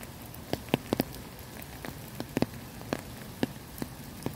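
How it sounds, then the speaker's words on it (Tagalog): Heavy raindrops strike a surface near a lakeside cottage at Jin Shin Lake, falling as sparse, sharp, irregular taps over a faint background hiss, quiet and close with no talking. "It's raining, man."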